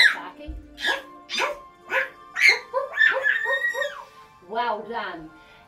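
Voices imitate a dog barking, a string of short yapping "woof" calls in a loose rhythm, close and clear, with no other sounds.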